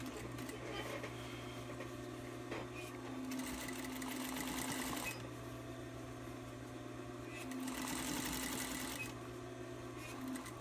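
A sewing machine stitches a fabric panel, its steady mechanical whir and hum running throughout, with two stretches where the motor speeds up and grows louder before easing back.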